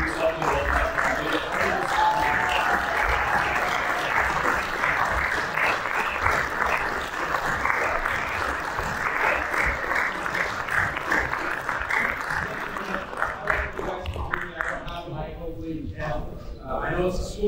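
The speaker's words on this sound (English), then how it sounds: "So with a very, very warm round of applause, please help me welcome." An audience gives warm applause welcoming a speaker, the mayor of Glendale, at a talk on Armenia: dense, sustained clapping that stays loud for most of the stretch, then thins and fades near the end.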